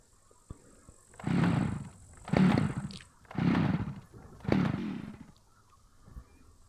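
Chainsaw in the survival game SCUM that fails to start: four separate rough pull-start bursts, each sputtering briefly and dying away, with short silent gaps between them.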